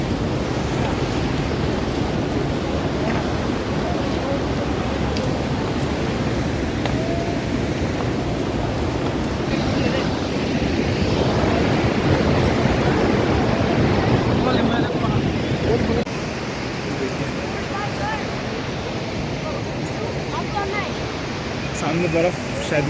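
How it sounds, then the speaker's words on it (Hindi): Rushing water from a mountain waterfall along the Char Dham pilgrimage route in the Himalayas, a steady loud broadband roar with wind buffeting the microphone and voices talking over it. "बहुत ही शानदार, बहुत ही सुंदर झरना है।"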